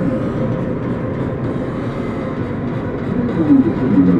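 Continuous low rumble of a moving train in a video game, steady and fairly loud, with a faint brief squeal near the end.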